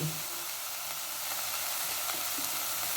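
Mutton frying with onions, chilli and cumin powders in a dry pan with no added oil or water, giving a constant close sizzle and faint stirring scrapes.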